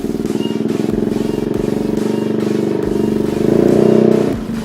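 A 2017 Yamaha Aerox 155 VVA scooter engine buzzes at a close, steady idle-like throb, then revs up louder toward the end before dropping back. No talking.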